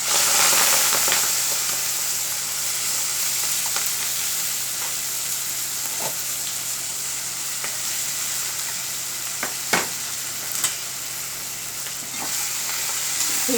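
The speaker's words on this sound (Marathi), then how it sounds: "हिंग, जिरे, लसणाची छान फोडणी घातली आहे" Asafoetida, cumin and garlic sizzle in hot oil as a tempering for a traditional Marathi leafy-greens dish, a steady bright hiss running throughout with a few sharp crackles and pops near the end.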